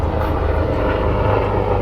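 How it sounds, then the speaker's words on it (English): Steady low engine roar of a helicopter passing overhead in Baltimore, Maryland, a constant rumbling drone with no talk. "There's a helicopter."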